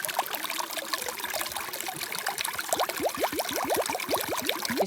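Cool spring water trickles and splashes outdoors during a bikepacking trip, a steady watery babble with a burst of quick, bright splashes in the second half as water is scooped onto a face.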